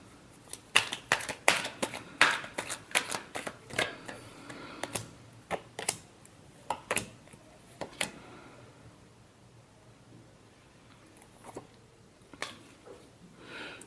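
Tarot cards being shuffled by hand: bursts of crisp, rapid flicks and taps close up for several seconds, then a quieter pause broken by a few isolated card snaps.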